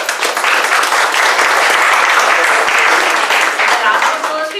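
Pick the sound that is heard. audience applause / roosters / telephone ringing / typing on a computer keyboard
audience applause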